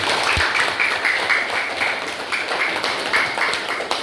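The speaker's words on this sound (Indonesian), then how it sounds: "silakan tepuk tangan." A Year 10 biology class claps on cue, a loud, continuous burst of many hands filling the room for several seconds with little else audible.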